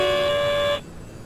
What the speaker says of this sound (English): throttle limiter warning